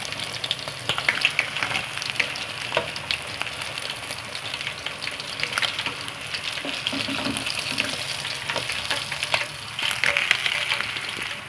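Masala fish pieces frying in hot oil, a steady close sizzle with crackling pops throughout and occasional faint clinks of handling.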